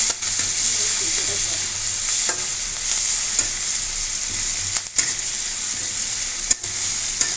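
Chopped onions sizzle and hiss loudly in hot oil in a pan while being stirred, with occasional scraping knocks of the spoon, a steady close frying roar throughout for jute-leaf cooking.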